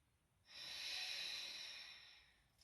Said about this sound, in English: 2 more strong breaths